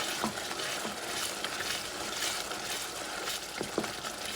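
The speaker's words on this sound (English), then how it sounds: "And I'm going to let this baby cook" Antelope meat cooking in a pan gives off a steady frying sizzle with faint stirring scrapes and a few brief clicks, holding an even level throughout with no voices.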